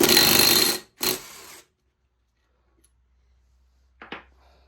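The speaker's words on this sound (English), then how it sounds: "you want a 12-point socket to pull these main bearing caps off" A 12-point socket on a ratchet removes rod bearing caps from a Can-Am 1000R ATV engine. Two short buzzing ratchet bursts sound up close, then a pause and one brief final burst.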